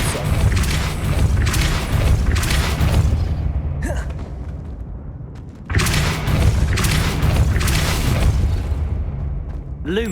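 A Depulso force spell cast in the video game Hogwarts Legacy, heard as loud booming bursts layered over a dense game soundscape with music, a brief dip and then a second heavy surge.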